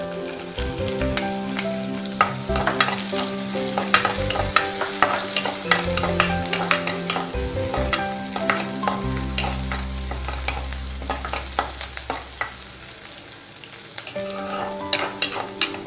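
Chopped onions sizzle and crackle steadily in hot oil with mustard seeds and lentils, with a spoon stirring and scraping the pan now and then, while making adai uppuma.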